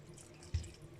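A thin stream of water is poured into dough during kneading, a faint, brief trickle with one soft splash in a quiet kitchen.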